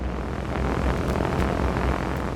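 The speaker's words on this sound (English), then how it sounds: "The island is home to the only surviving de Havilland Heron." A de Havilland Heron propeller airliner, a post-war British four-engine aircraft on Jersey, drones steadily with a dense, continuous engine roar that holds at an even level throughout, with no voices.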